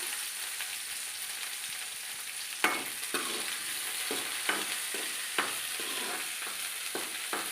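Sliced onions with curry leaves sizzle in hot oil in a pan while being stirred, a constant close hiss broken by several sharp scrapes and knocks of the spoon.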